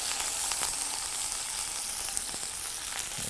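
Stuffed food frying in a little oil in a pan, giving a steady bright sizzle throughout with occasional light crackles and taps, close and fairly loud, with no voices.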